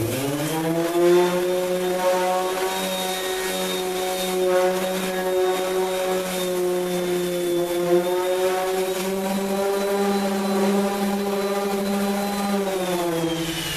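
An electric sander runs continuously at close range, a steady droning whine with a strong even hum and slight pitch wobble throughout, fairly loud and with no talking.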